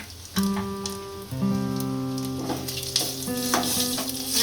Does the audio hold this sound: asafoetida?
yes